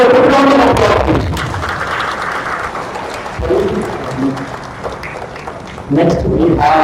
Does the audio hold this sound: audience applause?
yes